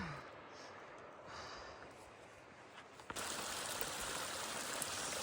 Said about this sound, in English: Here's our morning waterfall.